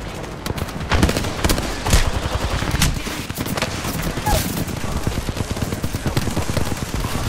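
Rapid bursts of automatic gunfire in the video game Apex Legends, repeated volleys close and sharp across the whole stretch, with a player's voice briefly heard.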